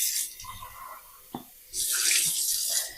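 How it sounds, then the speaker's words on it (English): Cool water gushing from a kitchen tap in two bursts, a short splash first, then after a brief pause a louder, fuller, steady stream close by. "Okay, let's run some cool water."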